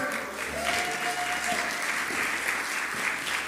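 Applause from a church congregation fills the space steadily, a dense continuous wash of clapping with faint voices mixed in.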